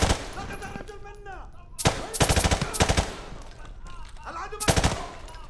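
M4 rifle firing M855A1 5.56 rounds in Call of Duty, several sharp, loud bursts of automatic gunfire with ringing tails between quieter gaps.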